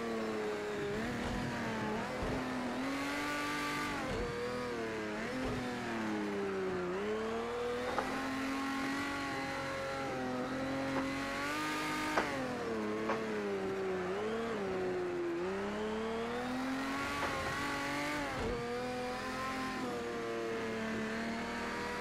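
A Porsche 917K race car laps the Nordschleife in Project CARS 2. Its engine howls loud and close for the whole stretch, pitch climbing and dropping through repeated gear changes and throttle lifts, and no one speaks.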